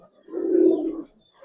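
A female Giribaz pigeon held in the hand gives a single soft, low coo lasting under a second, close and clear against a quiet background.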